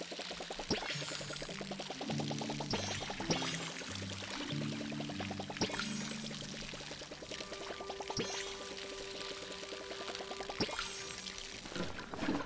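Water pours steadily from a watering can onto plants in the farming game Palia, a continuous splashing stream running under light game music, with no talk.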